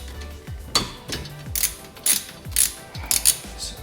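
A ratchet wrench loosening a 14 mm brake caliper bolt on a Subaru Impreza during a front slotted rotor install, giving repeated close clicking ratchet strokes in an uneven rhythm, about six or seven bursts, with no talking.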